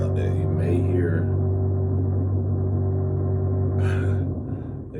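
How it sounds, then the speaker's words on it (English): Construction work on a floor below produces a steady low mechanical rumble and hum, fairly constant for several seconds before easing off at the end, with brief higher noise bursts and no talk. "they're doing construction below."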